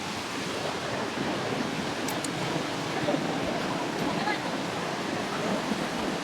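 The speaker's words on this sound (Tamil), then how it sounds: "இப்போ பாருங்கள் ஃபால்ஸ் அப்படியே தண்ணி போகுது பாருங்கள்" Steady broadband rush of falling water from a waterfall and river in Jasper, Canada, constant and full, heard close by, with no pauses.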